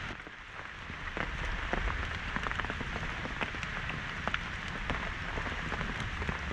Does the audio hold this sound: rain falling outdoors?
yes